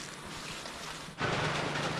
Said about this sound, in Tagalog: At ngayon, biglang bumuhos yung ulan.